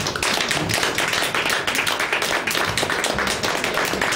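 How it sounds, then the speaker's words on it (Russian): A crowd claps steadily and briskly for about four seconds at a small cover-band performance, the dense, even pattering close and fairly loud, with no voices over it. "Давайте похлопаем."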